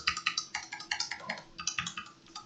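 Ctrl and Page Up/Down keys tapped on a computer keyboard, a close run of quick, light plastic clicks in an uneven typing rhythm, with no voices.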